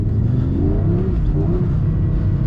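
An Audi R8 GT engine drones at steady high revs with the throttle held nearly flat while drifting in second gear, a loud continuous rumbling roar close by.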